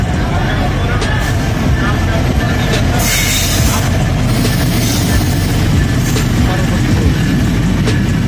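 An intercity train to Parbatipur rumbles steadily nearby as it arrives at a station, a continuous heavy clatter filling the space while people talk faintly underneath.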